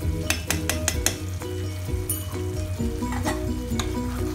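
Potato masala with ghee, garam masala and chopped coriander being stirred in a pan, a quick run of metal spoon clinks against the pan over a steady close sizzle.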